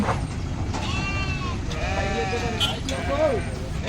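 Several white sheep bleat close by, overlapping wavering cries in quick succession over steady background noise.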